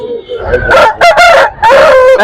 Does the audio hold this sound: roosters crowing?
yes